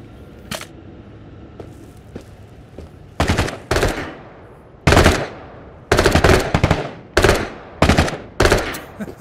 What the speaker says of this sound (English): What the hell are you shooting at?